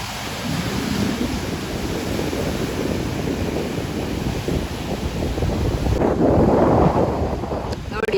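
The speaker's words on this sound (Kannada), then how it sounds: "ಅಲೆ ಅಲೆ ಎಷ್ಟು ದೊಡ್ಡ ಅಲೆ." Big ocean waves break on Azhikkal beach in Kerala, a loud, continuous rumbling wash heavy with wind buffeting the microphone, surging stronger toward the end.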